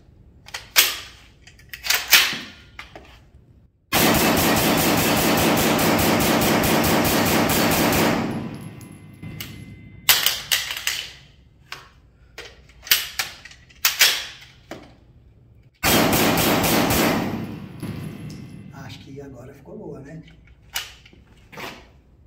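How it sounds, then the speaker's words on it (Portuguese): A CZ Scorpion EVO 3 S1 9mm carbine fires two long rapid strings of close, loud shots, separated by scattered single shots and quieter handling sounds. "Vocês viram o manuseio, o funcionamento e os disparos dessa excelente carabina calibre 9mm."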